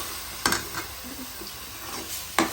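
Masala for stuffed bitter gourd sizzles softly in oil in a pan while a spoon scrapes and stirs it, with two sharper clinks at the start and end.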